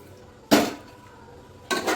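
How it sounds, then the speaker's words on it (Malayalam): Metal cookware clanks twice, about a second apart, as a pot of chicken curry is handled and covered after hot water is added; both knocks are sharp, close and brief, with quiet between them. "കുറച്ച് ഇത്തിരി ചൂടുവെള്ളം ഒഴിച്ചിട്ട് അടച്ച് വെക്കാം"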